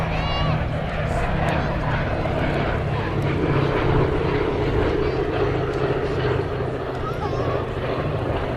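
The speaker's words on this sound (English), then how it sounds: "many stories about the damage that B-17s could sustain until making home" A Boeing B-17 bomber flies past at the Weston Air Festival, its steady piston-engine drone loud and continuous throughout, with crowd and announcer speech mixed underneath.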